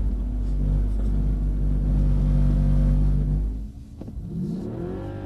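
A Mercedes CLS AMG engine revs loudly and steadily on power during a driving experience at Mercedes-Benz World, a deep sustained roar that drops away near the end.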